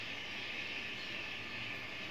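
Compressed air hisses steadily into the oil drain of a Bajaj Avenger 150 motorcycle engine, a continuous close, fairly quiet rushing blast with no breaks.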